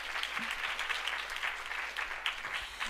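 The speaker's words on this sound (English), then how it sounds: "So, I'd like you to all give a round of applause for Shaila Gamin from Atos." Audience applause at a women-in-tech startup funding event, a dense steady wash of many hands clapping that fills the hall and holds for the whole stretch without speech.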